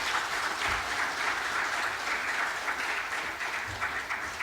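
A Sunday worship congregation in a church breaks into sustained applause for the pastor, a dense, even roar of clapping at moderate loudness throughout.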